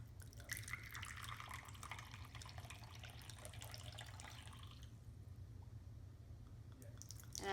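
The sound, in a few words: pouring traditional Eritrean coffee through a filter into a finjal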